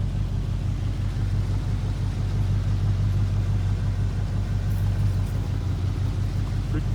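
A 1983 Oldsmobile Cutlass Supreme Brougham engine runs steadily, giving a close, continuous low rumble with an even idle-like drone and no talk over it.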